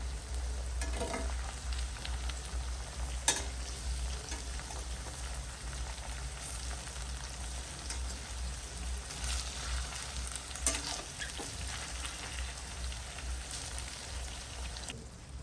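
Undhiyu vegetables simmer in a pan over a low gas flame, giving a soft, steady sizzle and crackle with a few faint clicks and scrapes, quiet and continuous throughout.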